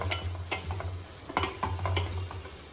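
Turmeric, chili powder and other spices frying in a pan as they are stirred, a low sizzle with scattered scraping strokes of a spoon, moderately quiet, no voices.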